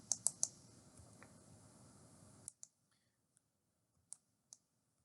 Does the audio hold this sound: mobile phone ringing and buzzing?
no